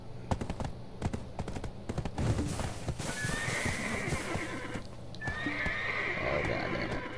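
Video-game horse neighing twice in high, drawn-out whinnies, over a busy bed of hoof clip-clop, thuds and bursts of game noise.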